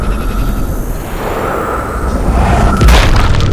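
A sniper rifle headshot in the shooter game Sniper Ghost Warrior Contracts 2 lands as a single heavy boom near the end, over a steady bed of game ambience.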